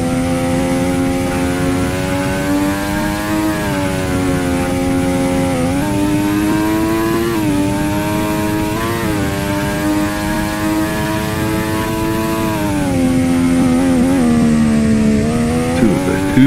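Race cars in the Roblox F2 racing video game on a South Korea circuit: a loud, continuous high-pitched engine whine with rising and falling pitch as the cars shift and accelerate, steady and close throughout.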